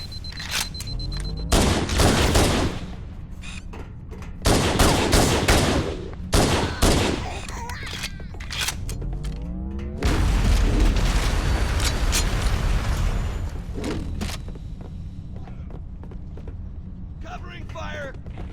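Repeated bursts of automatic gunfire in a Halo: The Master Chief Collection firefight against the Covenant, loud volleys separated by short gaps, with in-game voices calling out between them.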